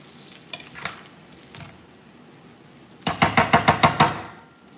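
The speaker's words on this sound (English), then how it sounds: "Potatoes and onions being smothered" Potatoes and onions fry in a pan under a faint sizzle, broken by a few soft knocks and then a quick run of about seven sharp, evenly spaced stirring scrapes against the pan; no talking.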